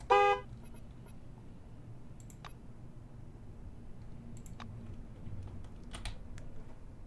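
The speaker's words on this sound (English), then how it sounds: "Honking the horn doesn't seem very useful." A single short car horn honk in the video game Encased sounds loud at the very start, followed by a quiet ambient stretch with a few sparse clicks.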